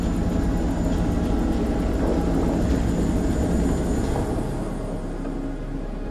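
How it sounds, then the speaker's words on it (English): Helicopter in the video game Man of Medan, a steady droning rotor and engine roar that stays loud and continuous throughout, with no talk over it. "There's a chopper."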